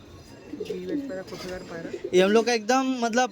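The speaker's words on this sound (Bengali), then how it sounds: "এটা হচ্ছে মাদা পায়রা" Madrasi pigeons coo in soft, throaty, rolling calls, repeated several times and growing louder toward the end, with faint background voices.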